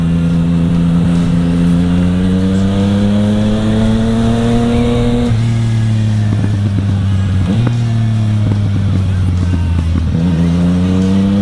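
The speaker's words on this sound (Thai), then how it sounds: "เราบิดปั๊บมันมาเลย" A Yamaha MT-09 with a three-cylinder crossplane engine accelerates hard. Its loud, close engine note climbs steadily in pitch, drops briefly at each gear change and then rises again, continuous throughout.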